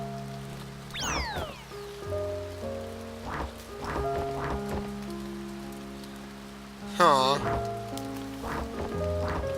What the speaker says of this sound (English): Oh, because it's raining.